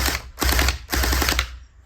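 Gel blaster firing with an Anstoy drum magazine: two rapid bursts of fast, rattling shots close up, each lasting under half a second, separated by short pauses.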